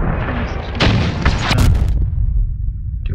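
Heavy booming cannon blasts from combat vehicles in the game Crossout go off in quick succession, followed by a rumbling tail that fades out.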